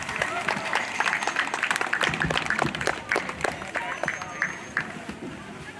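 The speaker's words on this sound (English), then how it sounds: "Let's give him a big round of applause." A crowd at a Philippine national day event gives the mayor of Halden a lively round of applause, a dense patter of clapping with chatter and voices underneath that gradually thins out.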